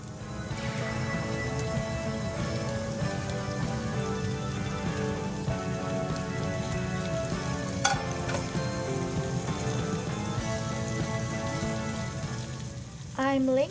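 Shrimp laid in a single layer sizzle in garlic butter in a pan, a soft, steady crackle heard at low level beneath tonal background music.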